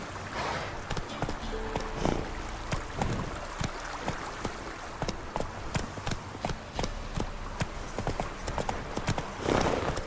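Roach, Geralt's horse in The Witcher 3: Wild Hunt, gallops steadily in a quick, continuous clip-clop of hooves, loud and close, with no talk over it.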